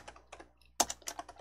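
A computer keyboard is typed on to enter a file name, giving a few quick clusters of light plastic key clicks. The clicks are close but faint, with a short pause between bursts and a slightly louder stroke partway through.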